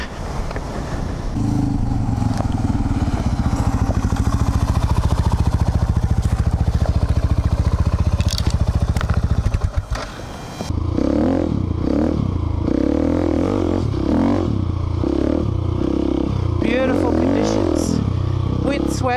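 A KTM 690 Adventure motorcycle riding through deep sand, its engine droning loud and steady with clattering and scraping, then changing pitch after a brief dip as a rider talks over it.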